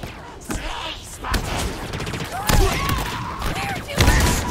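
Cindershot weapon fire in the Halo Infinite campaign: several sharp blasts about a second apart, loud and close, over game noise with brief tonal effects and some speech.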